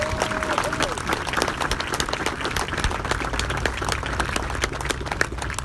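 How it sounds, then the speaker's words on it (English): An audience at a memorial ceremony applauds with a dense, even patter of clapping sustained throughout, with a brief voice at the start. "it's worth a round of applause"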